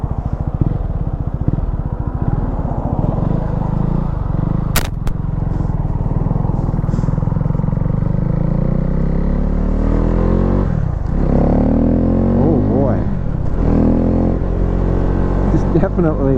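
Husqvarna Svartpilen motorcycle with a modified engine runs loud and close throughout a ride, its engine note rising and falling with throttle changes under a voice.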